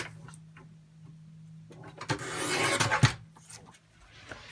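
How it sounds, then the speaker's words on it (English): Paper on a hardback journal page is trimmed at its edge, a close soft rasping cut that builds into a louder rough burst of shearing before fading. "I'm just going to trim it a little bit and leave this torn bit"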